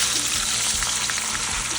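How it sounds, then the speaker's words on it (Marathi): Chopped okra sizzles and crackles steadily in hot oil in a pan, a close, continuous frying sound with a few soft stirring bumps. "भेंडी टाकायची"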